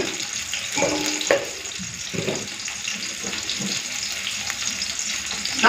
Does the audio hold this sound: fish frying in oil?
yes